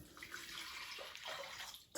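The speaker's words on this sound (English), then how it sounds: "And then we have 5 deciliters of water." Water pours steadily into a bowl of pizza dough ingredients for two seconds, a soft close trickle and splash in a quiet kitchen.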